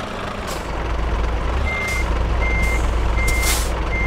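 A DAF XF 105 truck with a tandem trailer reverses in Euro Truck Simulator 2, with a steady engine drone under three evenly spaced reversing beeps and several sharp hissing bursts of air brakes.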